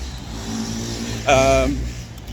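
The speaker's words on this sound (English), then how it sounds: "Wait for the loud motorbike to go by." A motorbike engine roars past nearby, swelling loudly for a moment over steady background rumble, then fading as it moves away.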